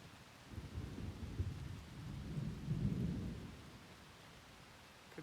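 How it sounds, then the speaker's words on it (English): Deep thunder rumbles swell and fade over steady rain during a storm on the Appalachian Trail, the low roll building to a peak midway before easing off, with no voices. "Getting plenty of thunder yet."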